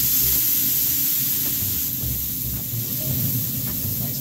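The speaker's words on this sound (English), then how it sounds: "time to get some spray on." A spray bottle mists liquid onto moose ribs cooking on a smoker, a steady broad hiss that runs throughout with faint pulses beneath it.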